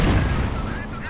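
Tank guns firing in a Men of War: Assault Squad battle against a Soviet T-26 tank, one heavy booming blast with a rumbling tail that fades over about a second.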